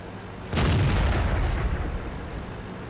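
An SU-85 tank destroyer's gun fires in World of Tanks, a single loud boom with a long rumbling tail in a battle on a hill, followed by a fainter shot about a second later.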